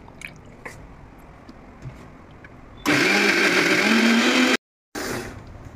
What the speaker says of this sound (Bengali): তো চলো এবার মিক্সিটা চালিয়ে নিই, মিক্সি চালালেই রেডি হয়ে যাবে।